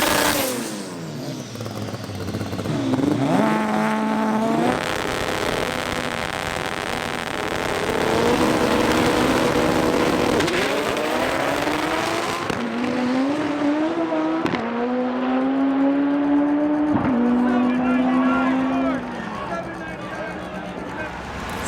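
An import drag race car on a drag strip during a day-two qualifier revs hard and launches, its engine climbing and shifting through rising, falling pitch at close range, loud and sustained, with a voice heard briefly.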